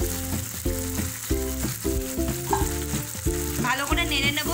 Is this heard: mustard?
yes